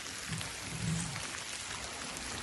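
Rain falling outdoors in a small Wisconsin mountain town, a steady soft hiss of drops pattering on surfaces, fairly quiet and without voices.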